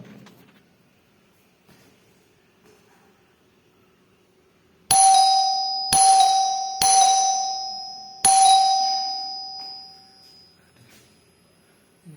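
An electric doorbell at a newly fitted bell point rings four times in a quiet room, each sharp electronic chime decaying before the next, spaced about a second apart.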